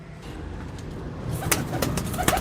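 Breeder pigeons cooing softly in a loft, low murmuring calls with a few sharper clicks and rustles toward the end, no talk.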